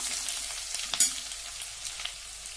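Crushed ginger and garlic fry in hot oil in a pan for a sorrel-leaf curry, a steady bright sizzle with a few sharper crackles and pops, close and alone.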